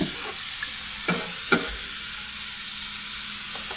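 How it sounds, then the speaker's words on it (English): Sirloin steak pieces, cut thin in Philly cheesesteak style and seasoned with Worcestershire, salt and pepper, sizzle steadily on a hot grill, a soft continuous hiss broken by a few brief clicks and scrapes. "you're gonna put some meat on the grill"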